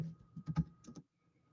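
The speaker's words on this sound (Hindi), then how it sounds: "आप सिंपल अपने कंप्यूटर में जाएं, ठीक है, वहां पर CLI टाइप करें" A computer keyboard being typed on, a short burst of about five or six key presses over one second followed by near silence.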